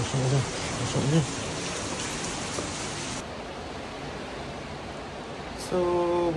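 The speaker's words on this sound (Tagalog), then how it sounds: "Lakas ng ulan. Lakas ng ulan." Steady, dense typhoon rain hisses throughout in Laguna, Philippines, loud and continuous, with faint voices briefly audible at the start and near the end.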